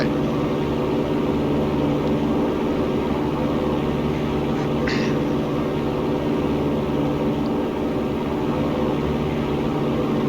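Piper Cherokee engine climbing out after takeoff, a loud, steady propeller drone with a rich low hum that fills the cabin without letting up. No one speaks.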